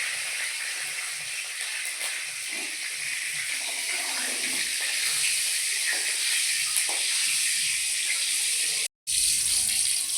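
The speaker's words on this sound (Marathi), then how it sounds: "आपलं थोडासा कढीपत्ता. आणि कढीपत्ता हा सुद्धा तेलामध्येच टाकून घ्यायचा आहे." Curry leaves sizzle in leftover hot oil while crisp chivda is being made, giving a steady, loud, close hiss that breaks off for a brief moment near the end.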